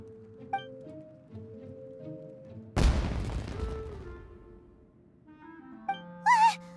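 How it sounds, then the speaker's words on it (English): Fireworks go off in a single loud, sudden blast that trails into a crackling, rumbling decay over about a second, set against soft background music and tones with a whistling effect near the end. "It sounded like fireworks."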